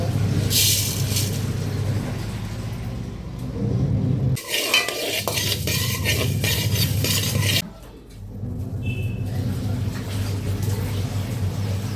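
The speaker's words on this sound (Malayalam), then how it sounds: "മല്ലിപ്പൊടി കുറച്ച് വറക്കട്ടെ" Coriander powder dry-roasting in a pan while a utensil stirs and scrapes it, with bursts of scraping and light clatter broken by short pauses, close and fairly clear.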